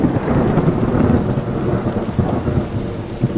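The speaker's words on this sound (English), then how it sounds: "It rained all night and all day the very next day." A thunderstorm with heavy, steady rain, low thunder rumbling continuously beneath the dense hiss of falling rain, loud and close with no voices.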